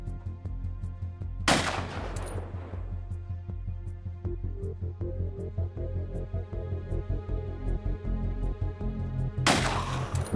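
Gunfire at a monster in the video game Cataclysm: Dark Days Ahead: two sharp, loud shots several seconds apart, each with a decaying tail, over a low, steady throbbing hum.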